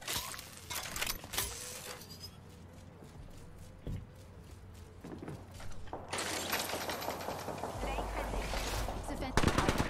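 Gunfire from a weapon in the battle royale game Apex Legends, scattered sharp shots and bursts mixed with mechanical clatter and game effects, fairly loud, with a voice talking at times underneath.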